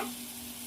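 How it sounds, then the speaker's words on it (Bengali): Potatoes and spices fry in a pan for a rui fish curry with potato and eggplant, giving a steady, even sizzle that stays soft and constant throughout. "আলু আর মশলা কিন্তু একদম ভাজা হয়ে গেছে"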